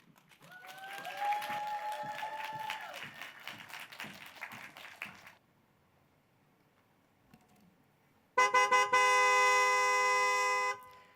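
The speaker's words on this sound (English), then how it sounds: "Honking horns has basically become the soundtrack of New York City, so I'm sure we're all very used to that sound." Car horns honk in New York City traffic, first as scattered beeps over a noisy street wash. A loud, sustained blaring of several horns together follows.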